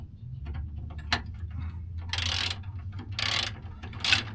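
A ratchet wrench clicks in short bursts while tightening nuts on a spare tire carrier of a Land Rover LR4, with a few separate ratcheting strokes close by and a low hum beneath.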